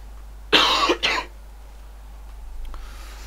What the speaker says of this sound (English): gonna have to cough again.